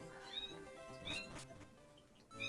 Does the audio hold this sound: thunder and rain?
no